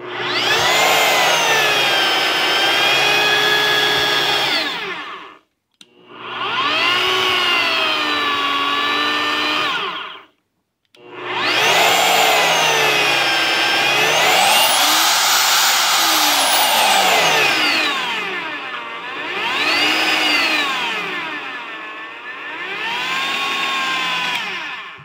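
Vevor magnetic drill motor with rough spots on its gears, sitting on plastic, runs loud and close in three long bursts separated by brief pauses, with a steady whine and a rising and falling pitch as it speeds up and slows.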